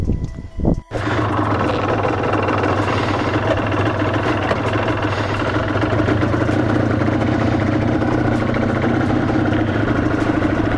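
A 1988 Suzuki RGV 250 two-stroke motorcycle engine, loud and close, starting with a brief sputter before settling into a continuous buzzing run that holds steady for the rest of the clip.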